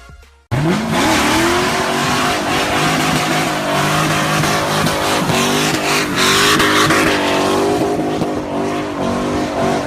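A 2010 Nissan GTR engine bursts into loud, close revving, rising and falling repeatedly, with tire squeal and skidding mixed in as the car works through burnouts.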